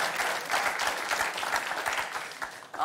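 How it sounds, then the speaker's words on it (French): Comedy-show audience applauding in a steady, dense burst of clapping that fills the room at a loud level, easing slightly near the end. "Non, n'applaudissez pas ça."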